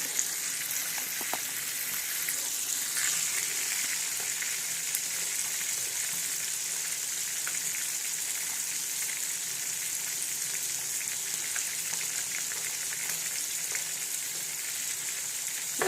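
Half a kilo of mackerel fries in oil in a pan, producing a dense, steady hiss and sizzle that stays even throughout, close by, with faint occasional crackles and no talking.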